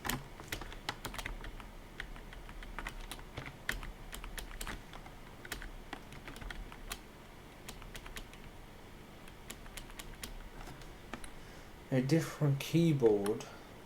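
Keys clack on a computer keyboard in steady, close bursts of typing with scattered sharper taps; near the end a voice speaks briefly over the clicking.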